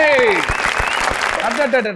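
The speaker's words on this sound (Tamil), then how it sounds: "ஒரு மிகப்பெரிய ஒரு கைத்தட்டல் கொட்டாச்சி அண்ணாக்கு." A studio audience on a Tamil comedy stage show applauds for Kottachi, with dense, loud clapping running throughout under an excited voice and background music.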